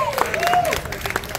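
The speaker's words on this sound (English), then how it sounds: "Everyone, round of applause for Jade for setting up the entire stage." Audience applause with a few cheers at a small live rock show at The Bull, a steady crackle of clapping that holds for the whole moment and thins a little toward the end.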